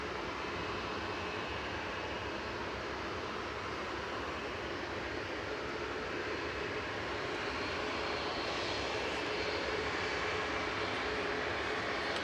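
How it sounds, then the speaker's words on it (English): A Singapore Airlines airliner arriving at Manchester Airport makes a continuous, fairly distant engine roar that slowly grows a little louder toward the end, with no talking. "Next in is Singapore Airlines coming in from Singapore."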